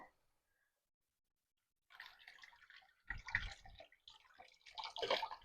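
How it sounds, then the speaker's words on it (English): Potatoes washed under running tap water at a kitchen sink while cooking, heard as irregular splashing and water flow that starts after a near-silent opening and grows louder toward the end. "So I'm going to get my potatoes washed up."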